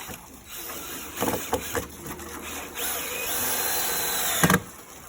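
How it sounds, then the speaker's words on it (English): A power drill whirs in a sustained run, with a few knocks and clatters before it and a sharp clunk as it stops. "We're just drilling it in through"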